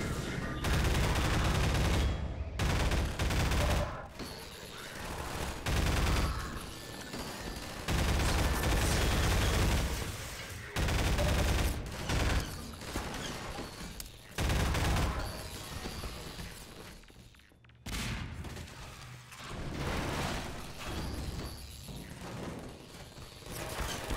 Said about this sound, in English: How is the turret smart enough to know to shoot me in the feet?